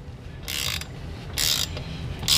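A wrench works a frozen bolt on a Yamaha FZR motorcycle during rear wheel removal, giving three short, bright bursts of close ratcheting clicks separated by brief pauses.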